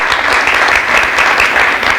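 Steady, loud applause from a church congregation at a Unity service, sustained and dense throughout with no talk over it.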